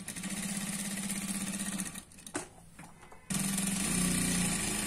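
A sewing machine runs steadily while stitching the neckline of a Punjabi dress, whirring loudly for about two seconds, pausing briefly with a short burst, then starting up again and running to the end.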